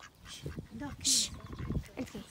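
A duck quacks a few times in short bursts during an early-morning nature walk, with birds chirping and a voice speaking nearby.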